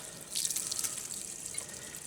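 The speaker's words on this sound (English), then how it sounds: "So the water comes out the top." Water pours and splashes as it fills a propane tank to the top and flows out, a steady hissing gush outdoors on a freezing morning.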